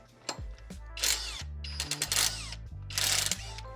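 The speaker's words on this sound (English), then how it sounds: "I'm using a right angle impact driver." Right angle impact driver loosening 10mm bolts on a fan pulley of a supercharged Range Rover cooling system, firing in several short rattling bursts with brief pauses between, close and loud.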